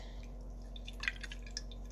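Water drips softly from a wet cloth during face-mask removal, a few faint scattered drops and light splashes over a quiet steady hum, close but very low in level.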